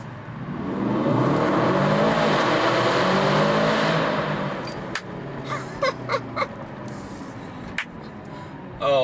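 A 2023 Aston Martin DBX 707 SUV accelerates hard under a bridge, its loud engine roar swelling and echoing for several seconds before falling away, followed by lighter clicks and road noise.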